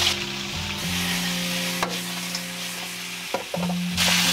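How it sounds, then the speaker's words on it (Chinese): Mitten crabs, cut side first, frying in hot oil in an iron wok over medium-high heat after being flipped, giving a steady close sizzle with a few soft clatters of the crabs shifting in the pan. "翻个面继续煎"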